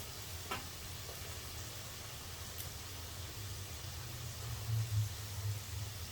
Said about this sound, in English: Now we're gonna let that fry.